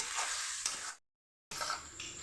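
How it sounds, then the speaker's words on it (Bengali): Chana dal being stirred together with fried potatoes in a pan, a soft sizzle and scraping of the spoon heard up close, broken by a half-second gap of silence before the stirring resumes. "এবার আমি ভালো করে একটু নেড়ে নেব"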